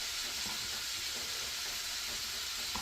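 Bell pepper sizzles steadily in a hot pan while being stirred, a constant close frying hiss with faint scraping and no talking.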